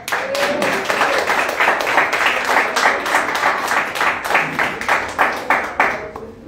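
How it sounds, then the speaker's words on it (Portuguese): A church congregation stands and claps rhythmically for Jesus, a loud steady beat of many hands filling the room, with some voices mixed in. "aplaude Jesus"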